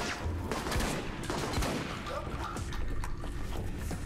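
Rapid gunfire rattles through a firefight in the video game Alpha Protocol, with dense overlapping shots and bursts of loud cracks throughout, with brief talking over it.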